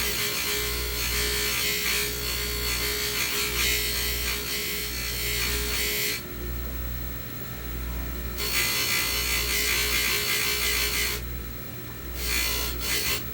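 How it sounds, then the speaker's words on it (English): Polishing out pits on a Colt 25 pistol before nickel plating makes a steady, close whirring and rubbing grind that continues without pause. The tone and texture shift a little partway through. "you'll basically just keep polishing on that pit, obviously, until it goes away"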